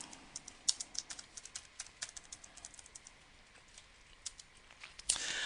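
Quiet typing on a computer keyboard, a quick irregular patter of close key clicks with short pauses between bursts and a louder clack near the end.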